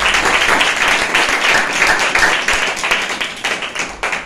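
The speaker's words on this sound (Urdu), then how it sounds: "زوردار تالیاں لگائیں خدا کے لیے" A church congregation at a Friday healing meeting claps loudly and steadily, a dense burst of hands that holds strong throughout before thinning slightly toward the end.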